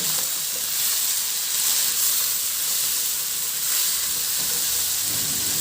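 Chopped onion and tomato sizzle in a hot pan for a Filipino fish sinigang, a steady, close, hissing fry that swells slightly and holds constant throughout, with no talking.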